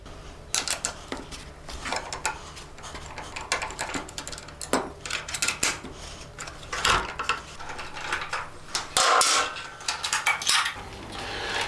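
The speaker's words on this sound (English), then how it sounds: "Using your 8mm socket, remove the 4 bolts holding on the rear fender." An 8mm socket on a ratchet undoes the four bolts holding the rear fender of a 2022 Yamaha R7, giving close, rapid clicking bursts with metallic clinks and short pauses.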